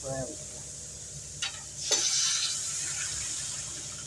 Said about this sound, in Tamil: எவ்வளோ ரசம் வேணுமோ அந்த அளவுக்கு நீங்கள் தண்ணி ஊற்றிக்கோங்க.